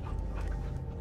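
A dog pants steadily and loudly up close in a Guardians of the Galaxy video game, the rapid breaths running continuously over a low rumble of game ambience.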